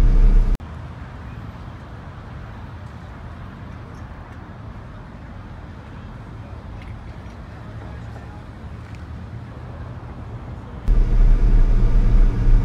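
Cars at a Cars & Coffee show, captured on a phone: a low steady rumble of idling engines and passing traffic, swelling louder near the end.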